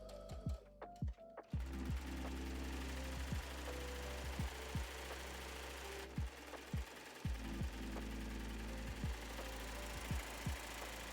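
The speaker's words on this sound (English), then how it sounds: "we're just going to sew that rise with a 3/8 inch seam allowance" A sewing machine stitches a trouser rise seam in bursts, its fast motor whir punctuated by regular mechanical clicks and brief pauses, close and clear.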